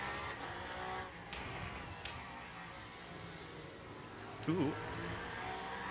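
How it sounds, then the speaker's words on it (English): A race car in Le Mans Ultimate snaps into oversteer, a steady engine drone broken by a short tire squeal near the end, with a person's brief exclamation over it. "Snap of oversteer when you least expect it."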